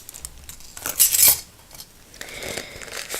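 A metal teaspoon scoops loose tea and taps it into a mesh tea bag, with light clinking and scraping close up. A brighter metallic clatter comes midway, then soft rustling.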